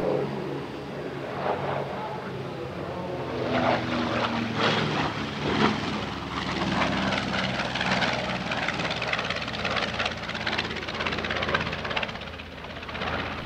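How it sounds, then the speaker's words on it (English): A B-25 medium bomber's piston engines and propellers drone steadily overhead at an airshow, a loud, continuous throbbing roar that swells slightly as the aircraft passes. "The B-25 was a medium bomber, and it first flew in 1940."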